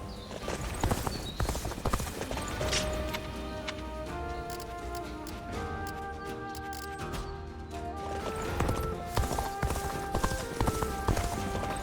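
Horse hooves galloping in Dynasty Warriors: Origins, a steady run of clip-clop beats that carries on throughout under layered game music and effects, with no talk.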